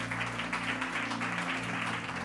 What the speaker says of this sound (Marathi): जरा जोरदार टाळ्या वाजवत प्रभूच्या गौरवासाठी